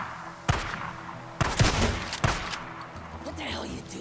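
Gunfire in the video game Days Gone sounds as several sharp, close shots in a ragged volley, with a cluster of rapid cracks in the middle. Shouting voices and background noise sit underneath.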